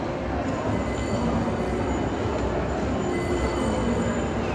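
A slow kiddie train ride in a shopping mall rolls along its track with a steady rumbling hum and faint squealing tones, continuous and fairly close, with no talk.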